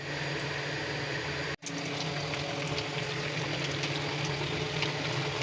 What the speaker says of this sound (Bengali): প্রায় বলক দিয়েছে